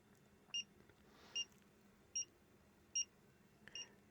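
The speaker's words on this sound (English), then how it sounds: "Now, it beeps every time it locks into a new value." Brymen BM789 multimeter giving short, high electronic beeps as it locks onto new readings, five evenly spaced chirps over a quiet background.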